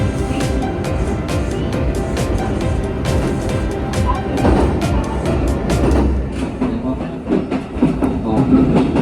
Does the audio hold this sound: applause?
no